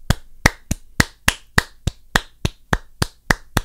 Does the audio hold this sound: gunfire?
no